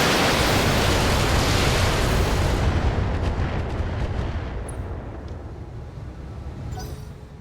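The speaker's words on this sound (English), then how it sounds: "That is a mortar." Heavy mortar fire in the BattleTech video game, a loud sustained rumbling barrage that slowly fades and thins over several seconds, with no talking.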